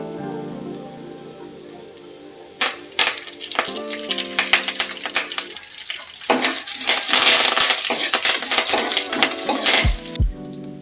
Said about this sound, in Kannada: ಉದ್ದಿನಬೇಳೆ ಎಲ್ಲ ಫ್ರೈ ಆಗ್ತಾ ಇದೆ. ಇವಾಗ ನಾನು ಕರಿಬೇವು ಸೊಪ್ಪು ಹಾಕ್ತಿದ್ದೀನಿ.